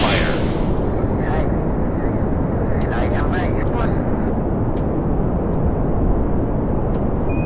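A rocket engine firing at launch in Kerbal Space Program, a loud continuous broadband roar that stays steady throughout.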